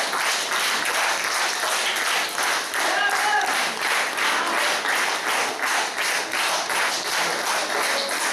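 An audience applauds after a string quartet concert in Tkibuli, Georgia, with dense, rhythmic clapping that sounds close and sustained and partly falls into unison beats.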